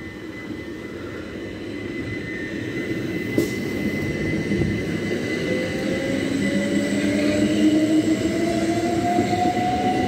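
Southeastern class 375 electric multiple unit pulling away from Platform 2 at Deal station: a loud, close rumble of wheels and motors with a traction whine climbing steadily in pitch as the train gathers speed.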